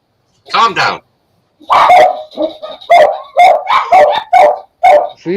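Several dogs bark loudly and close by in a rapid, overlapping string of yips and barks, following a short burst of talk.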